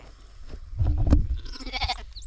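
Ewes bleat loudly in a farm pen where lambs are being fed, several overlapping calls rising and falling close by over a background of shuffling livestock.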